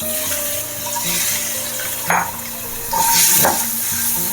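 Eggs fry in oil with salt and chili powder over a low flame for an egg masala curry, giving a steady close sizzle with a couple of brief scraping stirs and clinks partway through.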